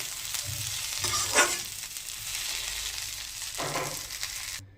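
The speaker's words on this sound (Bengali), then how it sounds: "ধনেপাতাটা দিয়ে এবার কিছুক্ষণ একটু নেড়ে নেব, নেড়ে তারপর তুলে নেব।" Coriander leaves being stirred in a hot pan, with a continuous sizzle and a couple of scraping stir bursts, close and fairly loud, without speech.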